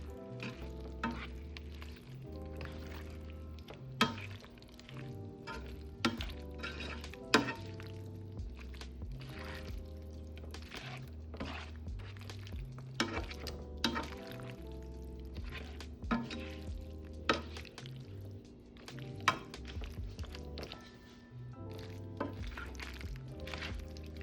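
Shrimp stir fry seasoned with white pepper sizzles steadily in a pan, with repeated stirring clinks and scrapes popping out over continuous background music.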